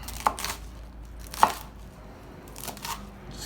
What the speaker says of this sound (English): Just cut it into strips.